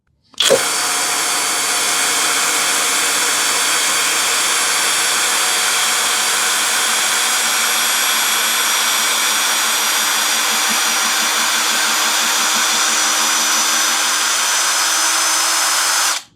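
Hanabi LJ-2023 cordless drill, 140 N torque, drives a screw into wood with one steady, loud, close motor whine that holds for about fifteen seconds and then cuts off.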